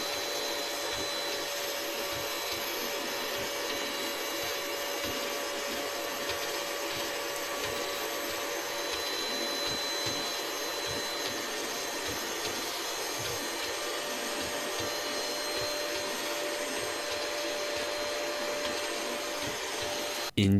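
Steady, continuous whine of a power drill running without pause, with a sustained motor hum.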